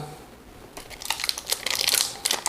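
A sealed wrapper of Ilford film is torn open, giving a quick run of close, sharp crinkles and rustles that grow busier toward the end.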